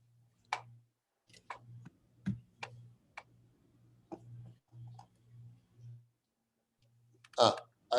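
Sharp computer mouse clicks sound one after another at an uneven pace while starting a PowerPoint slideshow, close and dry, with a low hum between them and a short burst of noise near the end.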